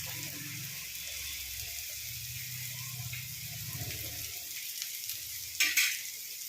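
Curry leaves sizzle in hot oil for upma, a steady close frying hiss running throughout with a brief louder crackling spurt near the end.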